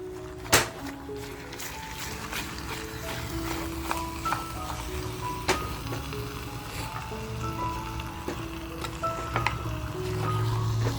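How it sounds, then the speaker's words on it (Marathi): Mutton frying in an onion-garlic masala gives a steady close sizzle with scattered stirring clicks and scrapes of the spoon across the pan, with no talk. "आपल्याला बघा मटण ह्याच्यामध्ये छान असं फ्राय करून घ्यायचं आहे"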